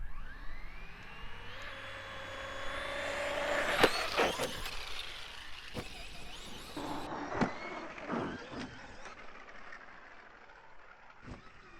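Traxxas Maxx V2 RC truck tearing through snow, its electric motor whining and rising in pitch as it builds speed, with a sharp impact midway and skittering bursts afterward, fairly close.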